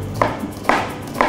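A knife strikes a cutting board three times at an even pace, close and crisp, while a peeled, halved onion is chopped very fine in a kitchen in the Azores.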